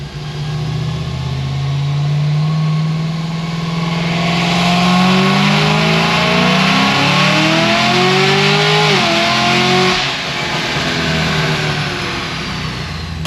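An 850-horsepower Cadillac CTS-V with only 3,000 miles revs loudly and close by, its engine note sweeping upward, then drops and climbs again through an automatic upshift near 6,300 rpm, with no voices over it.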